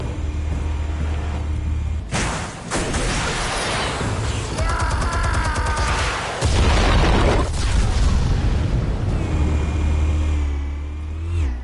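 Loud explosives detonating in a video game, a heavy boom followed by rumbling blasts, crackling debris and a second big detonation, with a low engine-like drone underneath.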